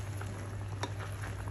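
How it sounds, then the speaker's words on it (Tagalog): Thick sweet and sour sauce with bell pepper bubbles in a pan for sweet and sour fish, giving a steady, close gurgling boil with soft popping bursts and one sharper pop, and no talk. "kumukulo na nga at malapot ng ating sauce"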